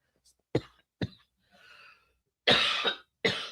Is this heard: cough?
yes